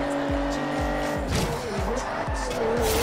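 Race car in Forza Horizon 2 accelerating hard, engine whine climbing through repeated gear shifts, up close and loud, with tire squeal mixed in.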